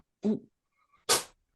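A short, sharp sneeze bursts out close by after a brief voiced intake, loud and breathy, with quiet gaps around it.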